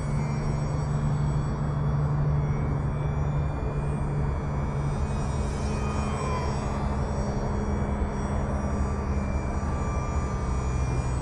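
A UMX Turbo Timber RC plane cruises slowly at half flap, its steady electric motor drone holding level and continuous throughout with no talk.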